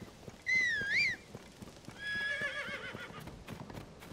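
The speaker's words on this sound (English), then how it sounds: "Why does my horse always end up on a rock?" A horse in Tears of the Kingdom gives two wavering neighs, the first sharp and clear, the second longer, over soft clopping hooves and quiet outdoor ambience.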